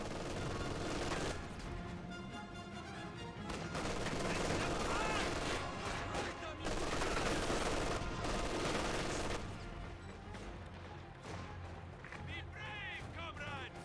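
Infantry gunfire in the strategy video game Advance Wars: Days of Ruin, dense bursts of rapid rifle and machine-gun shots with crackling volleys, overlapping game sounds and a commentator talking over it.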